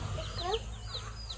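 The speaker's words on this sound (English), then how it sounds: "And the chickens are going berserkos with all the bugs." Several chickens in a yard give quick, soft clucks and chirpy calls over a low steady hum, close by, for a moment and without talk.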